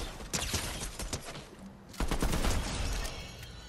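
Pistol gunfire in the Fortnite Battle Royale video game, a string of sharp cracking shots in quick bursts, loud and close, with a brief lull before a denser volley of rapid fire.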